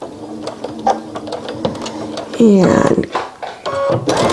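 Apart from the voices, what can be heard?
sewing machine back stitching a face mask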